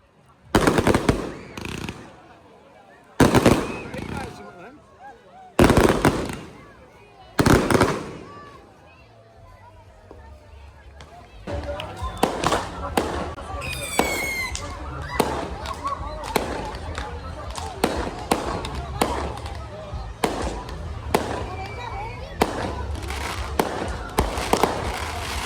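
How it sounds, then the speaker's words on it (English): Fireworks are set off on the beach for the San Juan festival. Sharp bangs come first with gaps between them, then dense crackling bursts follow one after another. "Fireworks are let off on the beach for roughly 24 hours to celebrate the start of summer."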